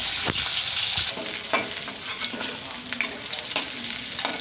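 Hilsa fish fry loudly in hot oil in a pan on a rainy day, a dense close sizzle with a few light clinks as the pieces are lifted out.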